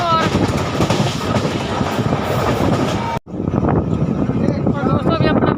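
A passenger train runs between Ludhiana and Chandigarh, heard from inside with a loud steady rumble, rattling and rushing wind, a sudden brief drop midway, then the roar again, and someone talking over it.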